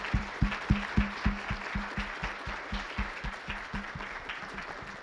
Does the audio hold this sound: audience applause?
yes